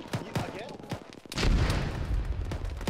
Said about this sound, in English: Mortar incoming. Mortars.